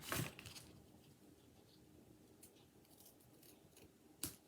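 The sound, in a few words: scissors snipping paper for a card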